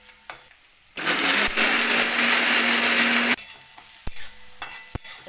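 A mixer grinder grinds spices for goat brain curry, whirring loudly and steadily for a couple of seconds, then stops, followed by a few sharp clicks and taps.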